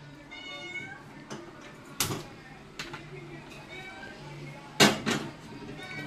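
A cat meows several times nearby in a home kitchen, the short calls coming between people talking, with a couple of sharp knocks or clatters in the background.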